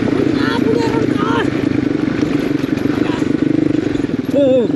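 A motorcycle rumbles along a rough, bumpy mountain road in Ramechhap, Nepal, with clattering jolts, while a voice talks over the engine for most of the ride.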